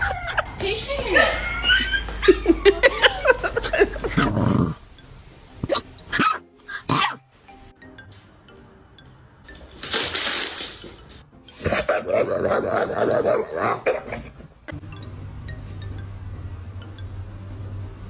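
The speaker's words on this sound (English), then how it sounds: "Big ass dog just walked up to me" A big dog barks and growls in short loud bursts separated by quiet gaps, close to the listener, with clinking and talking heard in between.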